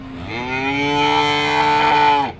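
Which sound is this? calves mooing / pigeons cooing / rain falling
calves mooing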